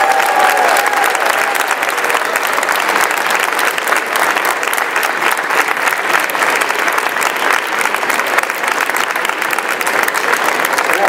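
Sustained, dense applause from a large festival crowd welcoming a congressman from Ohio at the Green Festival, loud and steady for the whole stretch with no break.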